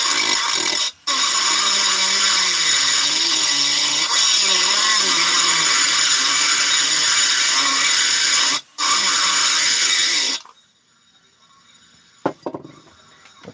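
A rotary tool with a round carbide burr grinds in a loud, close, high whine that runs about ten seconds with two brief cutouts, then stops, followed by a few faint clicks and handling sounds.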